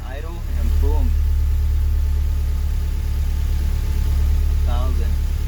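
A Honda K24-swapped CRX engine settles back to a steady idle after a throttle body fix, a loud close low rumble that holds even throughout, with someone talking over it at the start and near the end.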